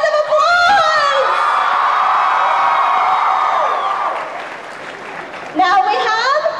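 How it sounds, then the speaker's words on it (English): A convention panel audience at Anime Expo 2014 cheers and whoops with loud, sustained applause that fades and then swells again. A voice is heard over the crowd. "Give her a big round of applause!"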